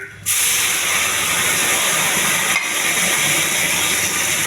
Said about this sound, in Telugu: కొద్దిగా జీలకర్ర, ఎండుమిర్చి ఇవన్నీ బాగా వేగిస్తానండి